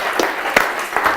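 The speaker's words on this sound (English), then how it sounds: "I'll clap for you." A few scattered claps, spaced and light, rising from a small group rather than a full crowd.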